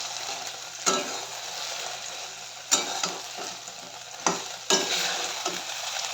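Ginger, garlic and sauce with pre-fried chicken being stir-fried in a pan, a steady close sizzle broken by four or five sharp scraping strokes of the spatula, with no voices.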